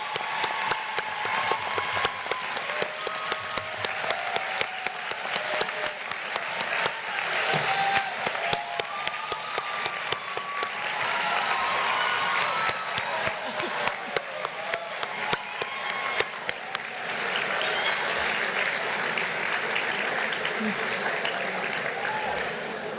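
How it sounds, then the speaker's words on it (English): At a college commencement, graduates give sustained applause to the faculty, friends and family who supported them, a dense crowd clapping with scattered cheers and a few voices mixed in throughout. "take a moment to thank with your applause all those faculty, friends, and family members who have supported you"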